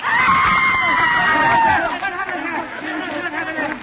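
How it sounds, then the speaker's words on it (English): In a radio drama, a woman in a theater audience lets out a long, shrill scream that lasts nearly two seconds. It rises over crowd hubbub and then fades into a restless murmur of the audience. "A woman in the audience screamed."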